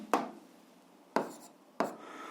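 Three separate pen strokes scratch on paper during an 8th-grade algebra exercise, each a short, sharp rasp that fades quickly, close and alone without speech.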